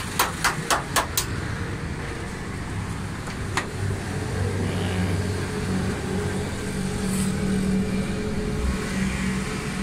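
A Suzuki Wagon R with a fuel fault idles steadily up close, a low engine hum that swells slightly partway through, with a few sharp clicks near the start and no talk.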